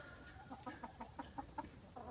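A rescued hen on a homestead clucks softly in a quick, evenly spaced series of short notes, faint and close, with quiet background noise.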